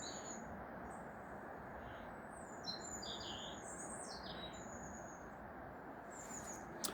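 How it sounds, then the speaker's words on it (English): Several birds chirp and trill in short high phrases over a steady low background hum, with no voices. "Isn't it a beautiful thing to have all these birds singing all around you?"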